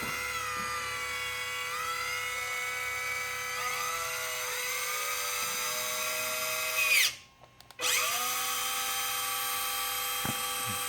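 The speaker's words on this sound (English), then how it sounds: "I can vary the speed with that winch control" Geared winch motor on a WPL radio-controlled truck raising the bed, a close whining electric drone that shifts pitch with speed changes, stops briefly, then resumes with a rising whine.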